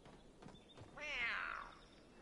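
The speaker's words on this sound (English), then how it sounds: "Why are you saying meow meow all the time?" A single drawn-out cat meow with a rising then falling tone, fairly faint against a quiet background.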